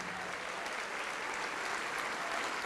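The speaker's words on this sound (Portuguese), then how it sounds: "Glória a Deus, vamos aplaudir mais," A church congregation clapping in unison, a dense, steady roll of applause heard from within the hall, constant in loudness with faint murmuring underneath.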